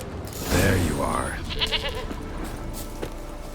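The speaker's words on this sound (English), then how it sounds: "Here, goat." A goat in The Witcher 3 bleats loudly and close, with shorter wavering cries after it amid some background game sounds.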